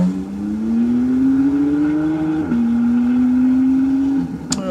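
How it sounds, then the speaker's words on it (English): Porsche race car climbing a hillclimb course, its engine droning steadily and rising in pitch, then dropping briefly on a gear change before climbing again. The engine is loud and close, with a short sharp crack near the end. "Now Mike Holland, he's been here for a few years as well, driving a different Porsche than he has in the previous years"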